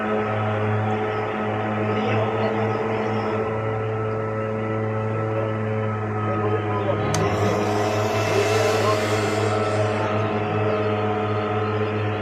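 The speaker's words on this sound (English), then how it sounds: "The lawn care services doing the grass." A steady mechanical engine drone hums nearby from lawn care equipment cutting grass, running continuously, with a brief surge partway through.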